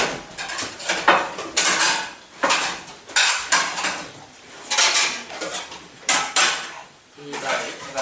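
Dishes and cutlery clatter in repeated bursts of clinking and scraping, close and fairly loud, as tableware is handled and sorted, with brief pauses between the bursts.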